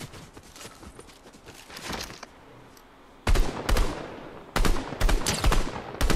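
Fortnite gunfire: after a few quieter scattered shots, loud rapid bursts of automatic fire crack out in several close volleys separated by short pauses, with no talking.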